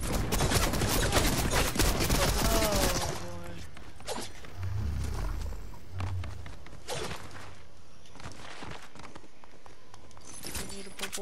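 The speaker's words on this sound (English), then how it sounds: "stop shooting me." Rapid bursts of gunfire from a Fortnite battle crackle densely at first, then thin into scattered shots with some footsteps and movement in between.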